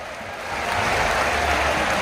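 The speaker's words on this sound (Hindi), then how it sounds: "2 हाथ ऊपर उठा करके जोरदार तालियों का महोत्सव पूरे परिसर में" A vast crowd applauding at a large Jain religious ceremony in Kundalpur, a broad roar of clapping that swells after a brief moment and then holds loud and continuous.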